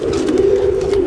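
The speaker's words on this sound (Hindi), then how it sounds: "कुछ कबूतर इधर उधर घूम रहे हैं, मस्ती मार रहे हैं, कुछ जाल के ऊपर बैठे हुए हैं" Pigeons out of their net enclosure in the evening give a steady, close, low coo, one sustained throaty murmur with no voices.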